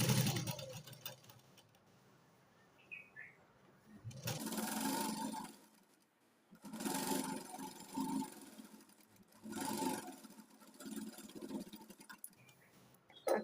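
A sewing machine runs a seam attaching lining to a blouse sleeve, in three or four separate whirring bursts of a few seconds each with quiet gaps between, close and alone.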